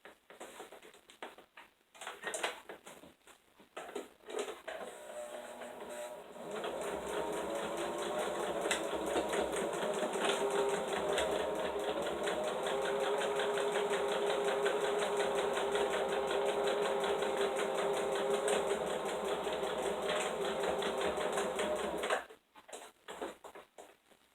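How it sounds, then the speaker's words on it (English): A home sewing machine stitches a fabric draft stopper, running in a steady continuous whir for about fifteen seconds. Brief handling noises come before and after the stitching. "I'm not going to sew right on this heavy seam here because I don't know if my machine will do it so good."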